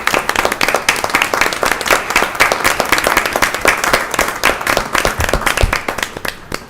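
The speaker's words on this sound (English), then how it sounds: "stand and celebrate you and give you a round of applause" Board of Commissioners members and attendees at a county board meeting stand and clap for county staff, a loud, dense round of applause lasting several seconds before tapering off.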